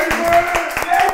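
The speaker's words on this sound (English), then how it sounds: "Start clapping right" A few hand claps in a slow, uneven rhythm, close and fairly loud, heard over a sustained tone with speech present.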